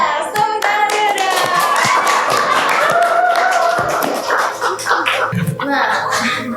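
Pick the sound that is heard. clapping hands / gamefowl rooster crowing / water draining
clapping hands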